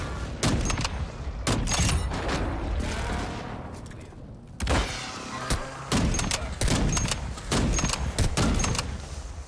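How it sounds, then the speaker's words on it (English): Airstrike and gunfire in Warzone 2, a string of loud, sharp shots and heavy booms spaced in clusters across the stretch, with rolling explosive rumble between the bursts. "I'm gonna try to airstrike him off that hill."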